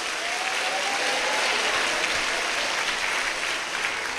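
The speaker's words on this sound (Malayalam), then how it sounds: "ഒന്ന് കൈയടിച്ച് ഹല്ലലിയ പറയാം" A church congregation clapping during a Malayalam sermon, a continuous, even wash of many hands applauding at steady volume throughout.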